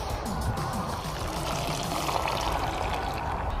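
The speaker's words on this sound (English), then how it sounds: "And now to pour into our pineapple." A Mai Tai cocktail made with white rum and almond liqueur pours steadily into a hollowed pineapple, a continuous close liquid trickle and splash lasting several seconds with no talk.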